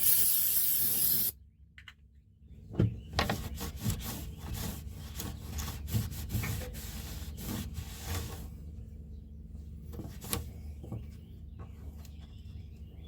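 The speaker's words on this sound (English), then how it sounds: "we're going to clean it a little bit again here" Cleaning the aft seat surface of a 2015 Cutwater boat before an epoxy repair: a hissing spray burst at first, then a long stretch of close, rhythmic rubbing and scrubbing strokes with occasional bumps.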